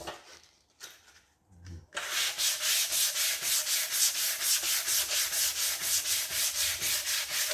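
Hand sanding of guide-coated fill primer on a VW Beetle body, with a few quiet scrapes at first, then rapid, even back-and-forth rubbing strokes that repeat in a steady rhythm, close and fairly loud.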